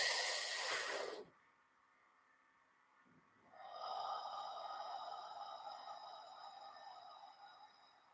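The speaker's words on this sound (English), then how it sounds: "3, 2, 1. Breathe in." A single deep breath drawn in through the mouth, a long soft rushing inhale heard close and alone, followed by a quiet pause and then a sustained airy hiss with faint tonal ambience.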